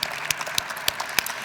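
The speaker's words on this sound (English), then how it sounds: "Let's give them a round of applause as well." A gala crowd at a philanthropy celebration claps for the host committee, giving a short burst of scattered applause with a few sharp, distinct claps standing out above a softer background.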